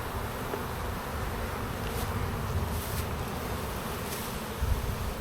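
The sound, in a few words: honeybees buzzing in hive being reversed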